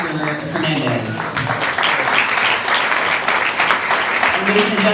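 An audience at a charter school gala applauds loudly and steadily, with a voice speaking over the clapping at the start and again near the end.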